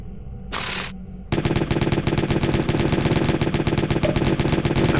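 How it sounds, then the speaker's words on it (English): A chain gun fires in the Jazzpunk video game, a loud rapid burst of shots running steadily after a brief whoosh and short pause at the start. "we got like a chain gun going on here"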